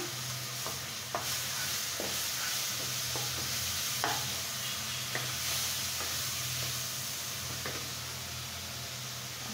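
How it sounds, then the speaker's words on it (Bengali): Ground spice paste sizzles in a pan with a little oil after cumin powder, a steady bright hiss with occasional scraping taps of a spatula stirring, close and continuous with no talk. "আমি এখন এই যে বেটে রাখা মশলার পেস্টটা দিয়ে দিলাম"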